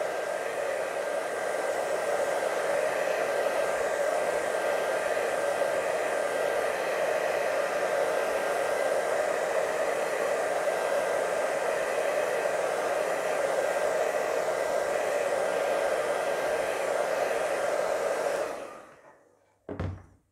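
A hair dryer blows steadily on a wet watercolour mountain landscape, a loud, close, continuous whooshing roar that runs unbroken for nearly twenty seconds before being switched off, then a brief click.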